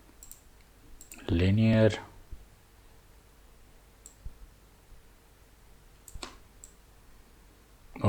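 Computer mouse clicks while working in Figma, a few faint, sharp single clicks spaced apart, with a brief spoken word early on.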